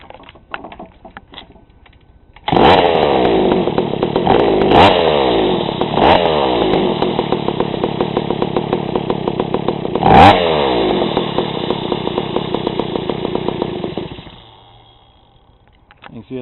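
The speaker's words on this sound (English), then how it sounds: "You can see it idles barely, real choppy, lopey idle" A carbureted engine that runs too rich catches and idles unevenly with a choppy, lopey beat. It throbs loud and close with irregular surges before it cuts out near the end.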